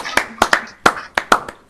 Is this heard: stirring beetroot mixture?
no